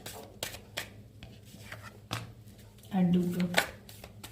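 Tarot cards are drawn from a deck, with several soft flicks and papery slaps spaced irregularly, ending in a brief shuffling rustle, while someone speaks between them.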